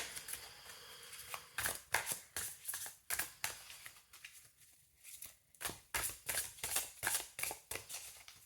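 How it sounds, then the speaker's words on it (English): A tarot card deck with sheen-finished cardstock being shuffled at close range, with repeated crisp riffling bursts in irregular rhythm, some quick clusters and brief pauses between, all fairly quiet. "I'm going to give it a shuffle for you guys."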